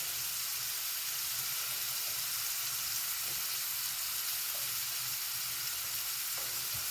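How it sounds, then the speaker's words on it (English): Squash sizzles steadily in a frying pan during vegan asparagus pasta cooking, a continuous bright crackling hiss with faint occasional stirring clinks, close and unbroken, with no voices. "And next I'm adding my squash"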